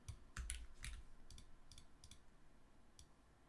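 Light clicks of typing on a computer keyboard come in short bursts, a few quick keystrokes at a time with pauses between them, faint and close.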